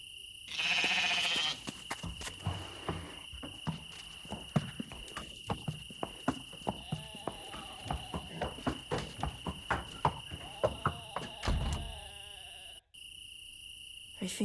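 Sheep bleats in a hidden-object adventure game, several short wavering calls over a steady insect-like chirping ambience and a soft rhythmic clopping, fairly faint and with no talk.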